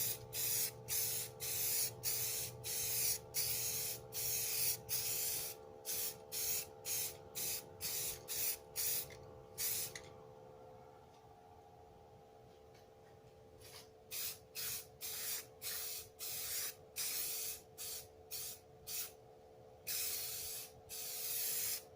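A spray gun lays down a second coat of paint in rapid, regular bursts of loud hiss, each lasting about half a second, with a steady hum underneath and a brief pause midway before the rhythmic spraying resumes.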